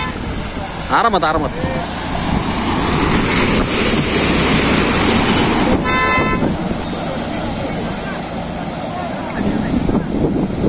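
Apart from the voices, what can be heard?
Mahindra Thar driving through water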